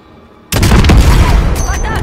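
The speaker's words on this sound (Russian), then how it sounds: "Взрывай машину, Алекс." A car blown up in the Call of Duty Modern Warfare video game: a sudden loud blast after half a second of quiet, followed by a dense, rumbling roar and crackling debris that continues to the end.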